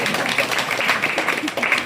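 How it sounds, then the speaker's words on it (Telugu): An audience at a Karthika month temple gathering clapping in a brief burst of applause, dense and continuous, with voices mixed in. "చప్పట్లు కొట్టండి."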